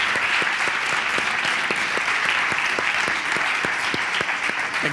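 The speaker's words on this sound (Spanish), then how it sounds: "Y fuerte el aplauso para Bernal." Steady audience applause at a live interview event, dense continuous clapping filling the room with occasional sharper individual claps standing out, no talking over it.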